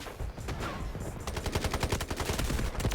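Rapid automatic gunfire in the shooter game Delta Force, with dense bursts of sharp shots that grow into a continuous fast volley in the second half, loud and close.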